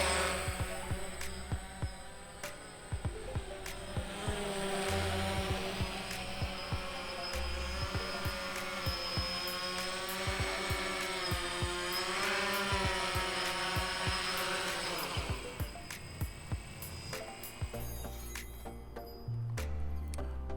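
A DJI Phantom 1 quadcopter carrying an action camera sweeps past very low overhead, its buzzing rotor whine swelling loudly for about fifteen seconds before fading away.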